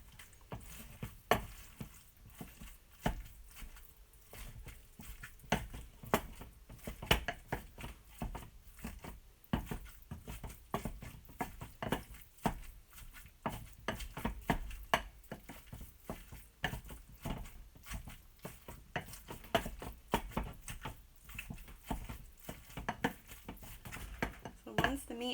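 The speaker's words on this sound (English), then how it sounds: "using the ground meat separator, we're going to just stir everything in and combine it" A ground meat separator stirs and breaks up seasoned ground meat in a pan for stuffed pasta filling, making continuous close scraping and tapping with a soft sizzle underneath.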